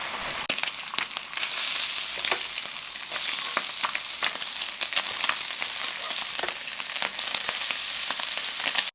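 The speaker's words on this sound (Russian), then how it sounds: "Открываем бекон, выкладываем на сковородку и обжариваем с 2 сторон до золотистой корочки." Bacon sizzling in a frying pan, a loud, steady hiss and crackle lasting the whole time, with occasional sharper pops and a few faint clinks.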